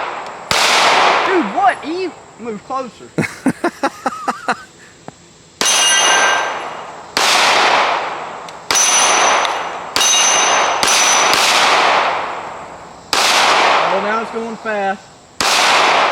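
Springfield Armory Echelon pistol shots ring out loudly and close at an outdoor range, each followed by a metallic clang from a steel Texas Star target, spaced a second or two apart, with brief talking between some shots.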